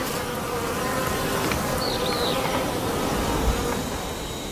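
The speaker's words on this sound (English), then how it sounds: "Back in the hive, the bee spins around as if dancing." Honeybees buzz inside the hive, a dense, continuous swarm hum close by with a brief higher whine from a single bee passing.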